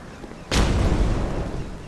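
Firebomb setting off flammable barrels in Dark Souls 2, a sudden heavy boom that bursts in and then rumbles and crackles for over a second.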